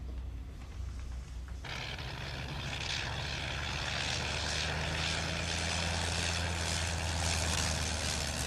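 A small propeller airplane low on fuel and coming in to land, its engine droning steadily and loudly for the whole stretch after a sharp jump in level, with no talk over it.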